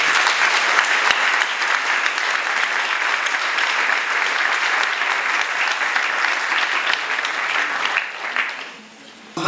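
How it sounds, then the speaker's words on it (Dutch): Warm audience applause welcoming a guest at a cultural event in Lierde, Flanders, a dense, even wash of many clapping hands sustained for about eight seconds before fading out. "een warm applaus geven."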